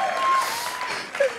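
A live comedy show audience applauds on stage at a Ranbir and Deepika spoof, with steady broadband clapping and crowd noise sustained over the clip and a brief whistle-like tone near the end.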